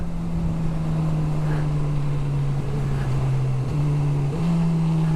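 A 2022 Honda CB1000R Black Edition's inline-four engine drones steadily while ridden, with a couple of brief pitch dips and recoveries near the end as auto-blipped downshifts come through, over constant wind rush.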